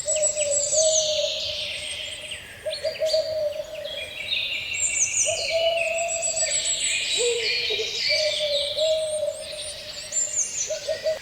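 An owl gives long, steady hoots that repeat with short gaps, while many small birds chirp and twitter busily above in a dense forest chorus.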